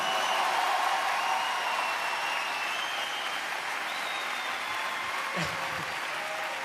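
A large comedy-show crowd at the Palais des Sports fills the hall with sustained applause, a dense even roar of many hands heard from a distance, fading slightly toward the end.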